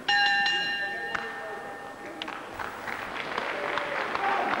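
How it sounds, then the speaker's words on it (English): A wrestling match round bell clangs several times with ringing metallic tones over crowd noise and applause in the hall, with a voice talking alongside. "On the bell now"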